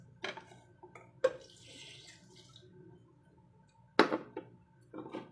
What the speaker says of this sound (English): Then I put 1 glass of water,